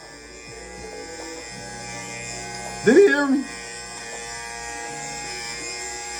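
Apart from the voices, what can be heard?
barber's electric hair clippers cutting a fade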